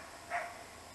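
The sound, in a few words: dog barking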